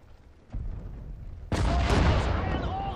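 Artillery cannon fire in the wartime strategy game Sudden Strike 4, a dull boom followed by a sudden heavy blast that rolls into a sustained rumble of battle noise.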